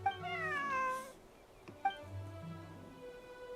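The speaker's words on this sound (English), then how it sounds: "Cat." A cat in Genshin Impact meows twice, two drawn-out, falling cries that are clear but moderately quiet, with nobody talking over them.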